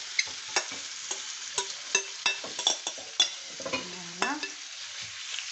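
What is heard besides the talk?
liver frying and sizzling in oil in a pan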